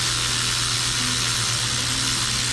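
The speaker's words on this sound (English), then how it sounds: "I'm gonna use the electric to run these threads down" A steady electric ratchet runs down spark plugs on a Lexus IS 250, whirring continuously at close range, a constant mechanical hum with a hissy, airy edge and no breaks.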